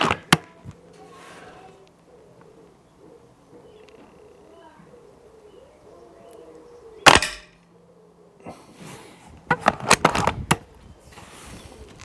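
A Walther Reign MK2 bullpup air rifle fires, a sharp crack standing out mid-clip followed by a cluster of clattering handling clicks, with quiet murmured talk and background noise in between.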